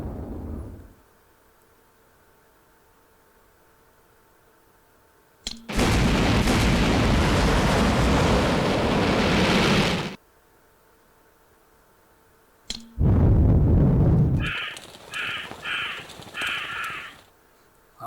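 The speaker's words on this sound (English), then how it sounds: "That was kind of a weak explosion." Explosions in the video game Suzuki Bakuhatsu: two long, loud roaring blasts separated by silence, the second tailing into pulsing electronic tones.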